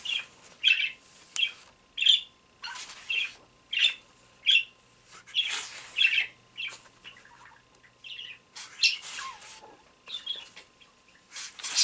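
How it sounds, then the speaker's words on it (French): A pet parakeet gives repeated shrill squawks and chirps in short bursts roughly every second, loud and close, alone in an otherwise quiet room. "Je suis désolée si ma perruche vous dérange."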